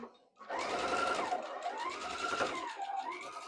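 A sewing machine stitches a seam in a steady, close, rapid whir that runs for about three seconds after a brief pause, its motor pitch rising and dipping slightly.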